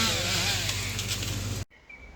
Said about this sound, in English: Listen for the chainsaws.